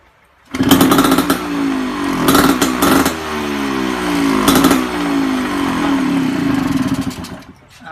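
A Rotax engine on a motorcycle starts up loudly and close by, then revs in several bursts before settling into a steady, buzzy idle that runs for several seconds.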